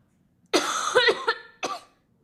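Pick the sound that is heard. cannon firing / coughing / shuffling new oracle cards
coughing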